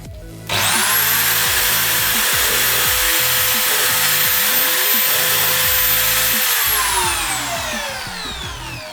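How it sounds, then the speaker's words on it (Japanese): A power drill bores a shallow 9 mm counterbore into wood for a screw head while building a homemade marking gauge. It is loud and steady, with a high motor whine that runs from spin-up to wind-down and cutting noise underneath. "頭が埋まるようにね、次9ミリの穴をちょこっとだけ開けていきたいと思います"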